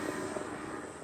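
A radio-controlled model airplane engine drones steadily and loudly at high throttle, a constant buzzing whine held through the brief moment with no voices.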